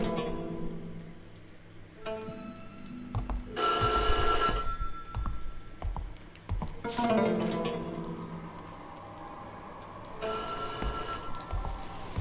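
An old telephone rings in bursts of bright, metallic bell trills inside the horror game White Day, several separate rings spaced across a quiet, eerie room ambience.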